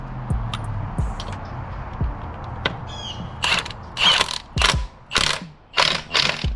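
Quick bursts of ratchet clicking as lug bolts are snugged and tightened, several short rapid runs of sharp metallic pawl clicks with brief pauses between them, close up over faint background noise.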